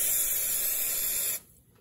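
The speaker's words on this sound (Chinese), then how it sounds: "然后我们用这种喷雾油喷到锅里，" Cooking oil spray hisses steadily from a can into a heated pan turned down low, one close, loud continuous burst lasting over a second before it cuts off abruptly, with no voices.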